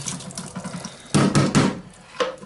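Residual water poured out of a Bissell SpotBot 33N8 carpet cleaner tank into a sink, short close splashing gushes with a light knock between them.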